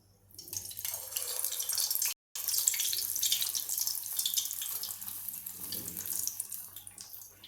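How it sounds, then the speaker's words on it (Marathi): Fasting kachori sizzling as it fries in hot oil over a high gas flame, a steady hissing crackle that runs throughout, close and moderately loud, with one brief break. "आता हे तेल चांगलं तापलेलं आहे आता आपण तेलामध्ये ही कचोरी सोडूया"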